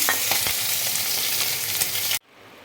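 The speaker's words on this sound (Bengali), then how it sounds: "মাছটা আমার ফ্রাই করা হয়ে গেছে" Katla fish pieces frying in hot oil give a loud, steady sizzle with a few stirring scrapes, which cut off abruptly near the end.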